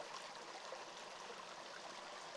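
Small unmapped mountain stream on a backpacking route toward Tehipite Valley, flowing with a steady, soft, even rush of water, faint and continuous with no voices.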